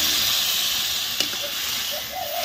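Water poured into a pan of sizzling Mrigal fish curry with potato and ridge gourd gives a steady, loud hiss and steam roar throughout, with one brief sharp crackle midway.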